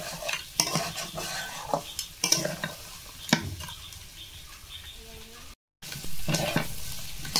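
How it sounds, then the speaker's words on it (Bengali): Crab pieces and bamboo shoots sautéed in a pan, with repeated scraping stirs of a spatula over a sizzling, frying base, a brief dropout near the end. "এখন আমি একটু কষিয়ে নেব কাঁকড়া বাঁশকড়াইগুলো"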